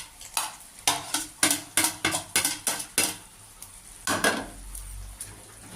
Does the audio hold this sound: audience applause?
no